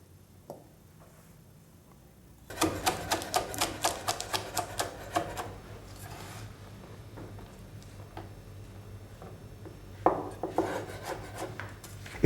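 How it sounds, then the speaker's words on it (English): Knife chopping celery and spring onions for Thai steamed fish in plum sauce, a fast run of crisp taps starting after a quiet moment, then scattered near cuts with a brief pause and a final burst, no talk. "Next, we chop about a quarter cup each of our celery and spring onions."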